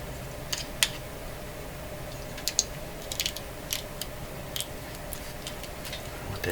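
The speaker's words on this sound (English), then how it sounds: "I want to get this covered with a little bit of tin foil." Tin foil is wrapped over a homemade cosmic ray detector, making faint, sparse crinkles and soft clicks against a quiet background.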